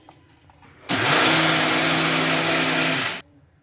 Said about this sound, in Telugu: దీన్ని గ్రైండ్ చేసుకోవాలి